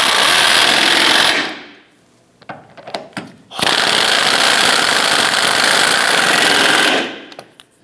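Impact or power tool tightening the front subframe bolts on a 2008–2013 Nissan Rogue: two long, loud, buzzing rattling bursts separated by a short gap with a few faint clicks between.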